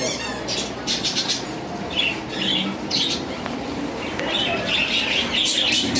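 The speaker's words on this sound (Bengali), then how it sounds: "এখানে প্রত্যেকটা কবুতরে বাচ্চা আছে" Pigeons with their chicks, including Giribaz pigeons, at a wholesale bird and poultry market in Comilla, giving steady squawks and chirps over a busy continuous background, with no talk.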